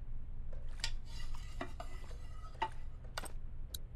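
A pot of vegetable soup being stirred in a kitchen in The Walking Dead video game, with scattered clinks and scrapes of a utensil against the pot, close and steady with no talking.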